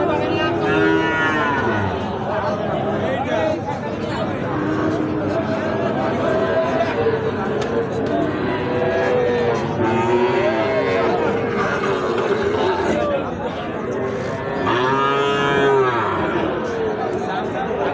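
Sahiwal cattle at a busy livestock market low repeatedly, several drawn-out moos rising over a constant hubbub of crowd chatter and nearby voices.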